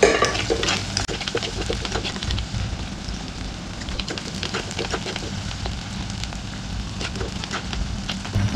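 Shallots and split green chillies fry in a pan for a Kerala mackerel curry, a loud, steady sizzle with occasional crackles and faint stirring throughout.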